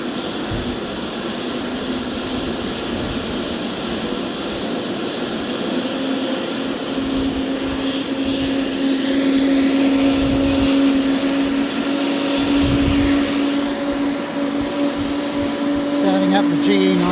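The GE90 engines of an airliner in C-3PO livery roar steadily at Fukuoka Airport, a loud broad jet rumble that swells partway through, with a tonal whine rising above it.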